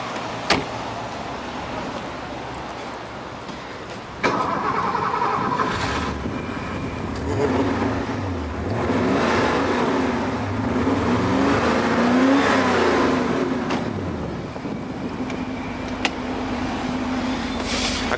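A Porsche 928 with a 5.0-litre V8 fires up a few seconds in, then revs rise and fall in repeated sweeps before settling to a steady idle. The engine is close and fairly loud, with no talk over it.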